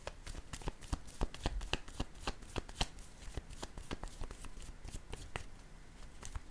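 A deck of cards shuffled repeatedly during a card reading, a dense run of sharp riffling snaps and taps at close range, fairly quiet overall with no talk.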